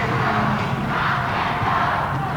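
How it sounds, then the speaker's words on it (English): Wrestling arena crowd at a 1995 Smoky Mountain Wrestling event chanting "rock and roll" in unison, a dense, loud, steady roar of many voices filling the whole stretch. "There's the crowd here chanting rock and roll, rock and roll."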